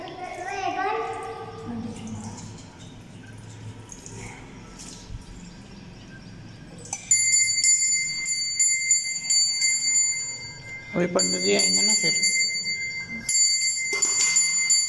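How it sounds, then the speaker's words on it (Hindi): A small metal puja bell rings during a Hindu Shiva worship at home, with sustained bright tones starting midway and repeating in bursts, while a child and an adult talk in the foreground. "पंडित जी बोलेंगे घंटी कौन बजा रहा"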